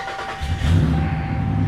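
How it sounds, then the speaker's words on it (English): A 2009 Ram 1500 pickup with a Hemi engine cranks briefly and catches, settling into a low rumbling idle, close and fairly loud. "this is the first time I started the truck up all day"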